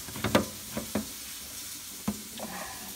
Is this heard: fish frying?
yes